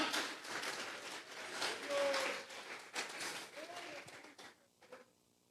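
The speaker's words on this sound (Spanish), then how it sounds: "Vamos a regalarle ofrenda de palmas al Dios de la gloria" Congregation clapping together as an offering of applause during a Sunday morning church service, a dense, steady wash of many hands that continues for several seconds and fades out near the end.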